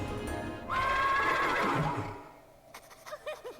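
A horse in the Wintermoor Tactics Club game lets out one loud, drawn-out whinny over a busy game background, followed by a few faint hoof-like clops as it fades.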